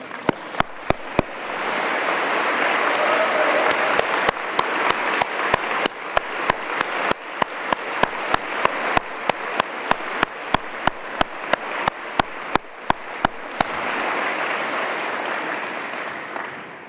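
At a cystic fibrosis conference plenary, a large audience gives data coordinators a long round of applause, thick continuous clapping with distinct close claps rising through it before it fades near the end.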